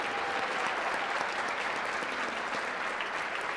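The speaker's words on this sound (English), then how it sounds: "So let's give another round of applause to Thomas and all of these students." Steady, full applause from the audience at a school honor band concert, a dense wash of clapping sustained throughout with no speech over it.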